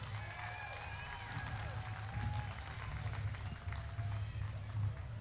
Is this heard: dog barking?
no